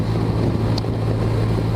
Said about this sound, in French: quand il y a des grosses rafales de vent comme ça